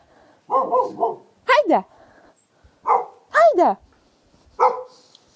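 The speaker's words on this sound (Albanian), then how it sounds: "E ke qenin e lidhur?" A tied-up dog barks in short, loud bursts close by, a few separate barks and yips with pauses between them, while a person talks nearby.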